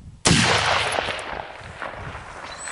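One sharp, loud rifle shot from a .243 Winchester or 6.5 Swedish Mauser fired outdoors, a sudden crack followed by a long rolling echo that slowly fades.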